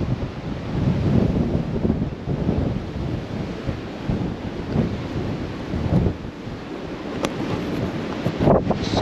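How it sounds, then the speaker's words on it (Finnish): Strong gusts of wind batter the microphone in a continuous, roaring rumble that swells and eases without a break. "Vähän vittu tuulee täällä, saatana."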